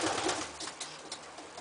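Pigeons cooing in a pigeon loft, soft repeated coos and rustling close by, fairly quiet and without any talk.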